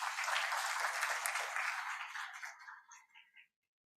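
A large audience at a Chandigarh University gathering applauds, a loud, dense wash of clapping that holds steady and then thins into scattered claps before stopping abruptly.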